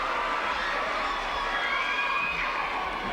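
A netball crowd at a 2001 Commonwealth Bank Trophy match between Melbourne Phoenix and Sydney Swifts cheers and shouts in a steady, dense roar of many voices, with high whoops rising above it.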